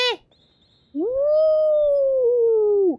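Koraidon, a legendary Pokémon in the video game Pokémon Scarlet, lets out a loud, sustained howl lasting about two seconds, rising at the start and sliding down at the end, after a brief yelp-like cry and a short gap.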